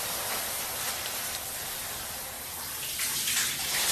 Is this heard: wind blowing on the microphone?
no